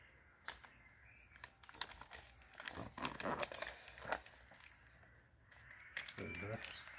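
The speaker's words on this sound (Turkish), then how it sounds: "sarmaya başlayacağız ve bağlayacağız" Grafting tape is wrapped around a walnut cleft graft, giving off quiet crinkling, rustling and small tearing sounds in irregular bursts, close but faint, with soft talking in the background.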